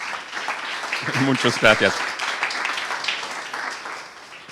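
Audience clapping welcomes a speaker at a talk on repetition and change, a continuous spread of applause from a room that carries on under a man's brief spoken thanks and then fades slightly.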